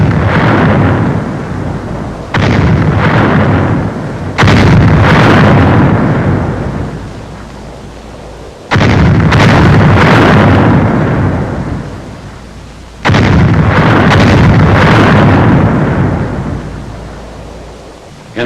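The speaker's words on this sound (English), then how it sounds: "Final shelling of the town is directed by the 7th Field Artillery Observation Battalion." WWII artillery shelling of a town rumbles in heavy, booming blasts, each one rolling on for several seconds; four or five loud explosions follow one another, with no talk over them.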